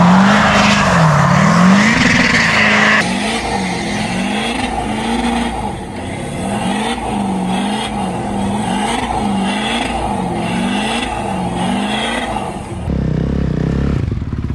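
A Duramax LBZ diesel drift truck with a T56 manual gearbox does a third-gear burnout leaving a garage, engine roaring loud and close with rising and falling revs and tires squealing throughout.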